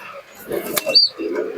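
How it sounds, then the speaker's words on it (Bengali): A pair of Rampuri pigeons released by hand, a soft coo and fluttering rustle close by, with a brief sharp tone and quiet voices around it. "চলো পায়রা দুটো আগে ছাড়ি।"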